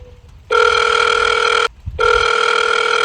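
A telephone rings loudly and close by in two long bursts separated by a short pause, with no voices during the rings.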